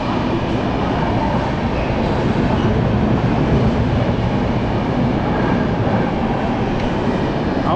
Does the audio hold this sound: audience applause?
no